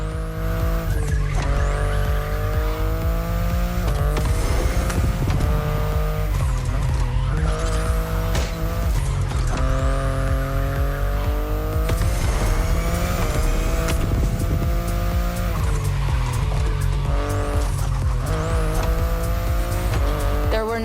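A BMW i8 sports car in The Crew Motorfest video game roars through repeated acceleration runs, engine pitch climbing and dropping with shifts while tires squeal and skid, loud and continuous throughout.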